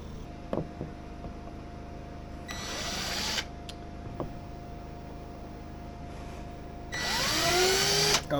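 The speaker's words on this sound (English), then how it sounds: "I need to drill a hole" A power drill bores a 1/4-inch hole during a diesel heater install in a tiny home, with two short whining bursts separated by a quiet stretch of low background hum and a few small knocks.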